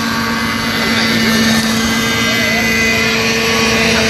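An MD500 helicopter's engine runs with a steady, loud, broadband roar and a sustained whine, droning continuously at close range at a children's day event.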